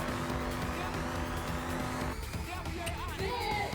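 Racing cars in the Danganronpa V3 video game roar past in a dense, steady engine drone with tire squeals, followed by shifting game sound effects. A player talks over the game audio.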